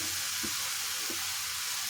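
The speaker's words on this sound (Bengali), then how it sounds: "গাজরটা হাই ফ্লেমে 3 থেকে 4 মিনিট খুব ভালো করে ভেজে নিলাম" Carrots frying on high flame in a pan for kheer, a steady soft sizzle with two brief stirring scrapes, heard close and alone with no talking.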